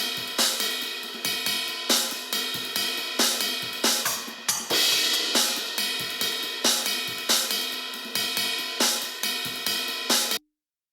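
Processed drum overheads in a modern prog mix, dominated by bright crashing cymbals struck in a steady, repeating rhythm with kick and snare hits underneath, loud and continuous, then stopping abruptly.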